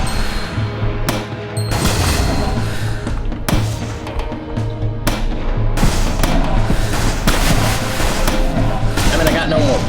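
Gunfire in the video game Dark Dreams, with loud repeated shots and heavy thumps cracking out irregularly over a dense, busy game soundtrack, and a voice talking at times.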